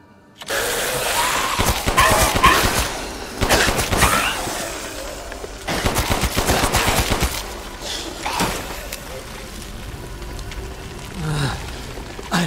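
Repeated gunfire from the standard weapon in Resident Evil Village, loud rapid bursts of shots in several clusters, with reverberant crashes and game noise between them.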